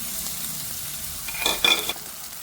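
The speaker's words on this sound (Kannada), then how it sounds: "ಇದರಲ್ಲಿ ಎಣ್ಣೆ ಬಿಸಿಯಾಗಿದೆ, ಸ್ವಲ್ಪ ಜೀರಿಗೆ, ಸಣ್ಣ ಕಟ್ ಮಾಡಿದ್ದು ಈರುಳ್ಳಿ." Cumin and finely chopped onion hit hot oil for a raw banana curry, a steady sizzle with a brief louder burst of frying and stirring near the end, no talking.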